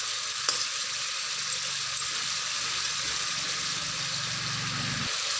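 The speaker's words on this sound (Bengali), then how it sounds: "হালকা করে একটু নেড়ে দিলাম" Eggplant with spices sizzles steadily in a hot pan and is gently stirred, a loud continuous frying hiss with a brief scrape near the start and a low hum beneath.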